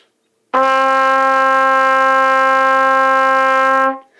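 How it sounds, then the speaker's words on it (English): A trumpet holds a long D with valves 1 and 3 down, a single steady, bright, clear tone lasting about three seconds alone before tapering off. "We're going to play a nice long D"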